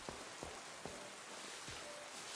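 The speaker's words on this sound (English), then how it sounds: "It is raining again." Rain in a Pokémon game falls as a steady, quiet hiss of drops, with a few faint soft taps standing out, heard alone without any talk.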